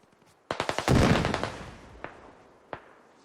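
Close-quarters gunfire in a video game: a quick run of sharp shots, then a dense loud burst that trails off, followed by two isolated single shots, no talking.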